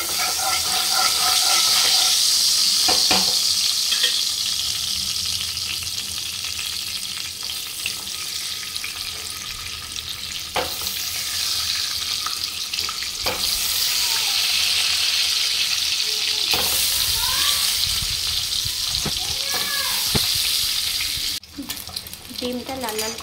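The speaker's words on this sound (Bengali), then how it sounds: "এবার ডিমগুলো সব ভেজে নেব, সমস্ত ডিম সব ভেজে নিচ্ছি।" Eggs frying in a little oil with turmeric in a pan, a steady close sizzle and crackle that runs throughout, broken by occasional scrapes and clatters of a spatula.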